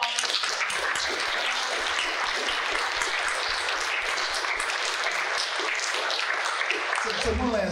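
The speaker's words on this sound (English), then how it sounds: "Can we give a round of applause?" An audience at a Juneteenth community event breaks into steady, dense applause that holds evenly for several seconds before cutting off abruptly, many hands clapping together indoors.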